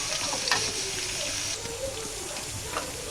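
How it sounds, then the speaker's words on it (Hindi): Cut vegetables fry in hot oil with cumin and mustard seeds, giving a steady, close sizzle with faint crackles throughout in a home kitchen. "थोड़ी सी देर फ्राई करूँगी ऑयल में, और फिर डालूँगी इसके साथ मसाले"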